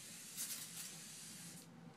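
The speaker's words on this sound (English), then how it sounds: "The other thing that I can't get enough of is this Evian spray." A handheld Evian facial water spray can releases a fine mist of plain water, heard as a soft, steady close-up hiss with a couple of brief bursts.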